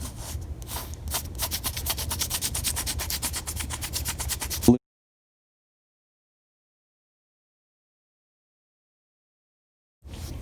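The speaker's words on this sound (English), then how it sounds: "Roughen up that entire area and go a little bit bigger than where you think the patch is going to go." A patch kit scuffer scrapes a bicycle inner tube in quick, close scratching strokes for several seconds. After that comes a long stretch of silence, then faint rubbing resumes.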